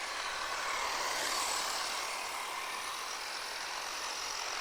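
A Traxxas Slash 2WD RC truck running on a 3s LiPo makes a loud, steady rush of motor whine and tire noise that holds level throughout without pause.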